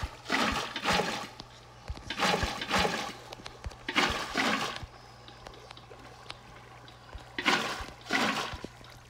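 A waterfall in Minecraft rushes in repeated swelling bursts of splashing water over a low steady hum, with brief quieter gaps between surges.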